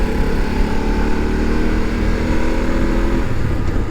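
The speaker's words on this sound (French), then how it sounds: "Il y a un pot à Krapovic qui fait un très beau bruit" A BMW F 850 GS motorcycle fitted with an Akrapovic exhaust, its engine running at a steady, loud drone throughout while riding, with no voices present.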